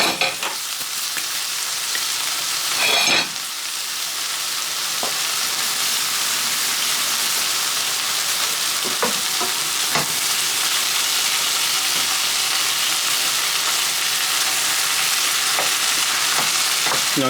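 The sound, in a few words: chicken stir fry sizzling in a pan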